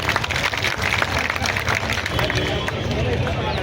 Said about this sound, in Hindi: चलिए जोरदार तालियों से